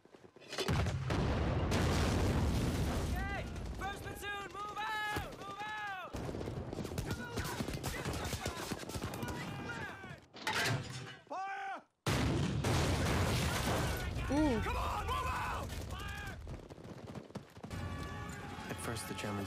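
Mortar and grenade launcher fire pounds a building in a war film, repeated loud booms and bursts of gunfire in irregular volleys, with a brief near-silent gap partway through and shouting voices mixed in.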